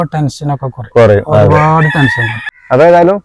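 A rooster crows loudly and close by, several harsh drawn-out calls in quick succession, with short clucking bursts between them.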